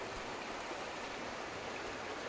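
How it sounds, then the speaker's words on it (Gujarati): Heavy rain pours down over Amreli, Gujarat, as an even, unbroken hiss of falling water that holds steady throughout at a moderate, distant level, with no voices. "અમરેલીના શહેરી વિસ્તારો તમામ જગ્યાએ વરસાદ વરસી રહ્યો છે"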